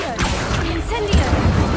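Spell effects cast in Hogwarts Legacy, Accio and Incendio: a couple of whooshing, crackling magical bursts over a steady game ambience, with a louder thumping impact near the end.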